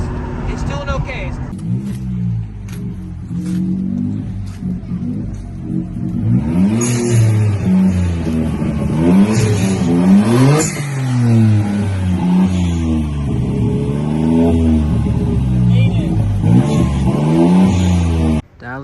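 A Suzuki Cappuccino on a cross-country road trip drives along with a loud, close engine drone that climbs and falls in pitch as it revs through the gears, continuous for the whole stretch.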